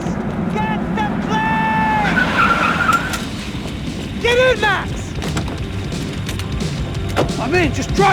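Car driving hard with tire skids in the action game Max Payne 3: a steady engine roar underneath, broken by several sharp squealing slides that rise and fall over the rumble.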